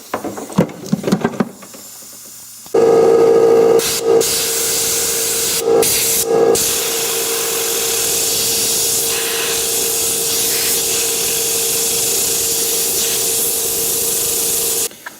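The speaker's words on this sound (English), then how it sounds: "Just clean the heck out of it with that air compressor." An air compressor nozzle blasts air through a Fisher and Paykel washing machine drum, a loud, sustained hissing rush after a few short puffs, with brief interruptions before running steadily to the end.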